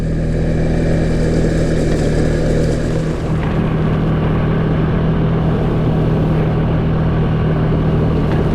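A Can-Am 700 ATV rides down a trail along an old rail line, its engine a steady, loud, close drone with constant rumbling and no pauses.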